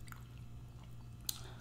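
Close, quiet chewing of a bite of Wingstop Louisiana rub chicken wings: soft, wet mastication with one sharp crunch near the end, heard alone without talk.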